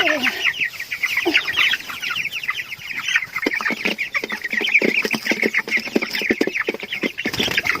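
Laying hens and quail on a rural Thai farm clucking steadily, a dense flock of overlapping clucks and short cackles close by, with no talk over them.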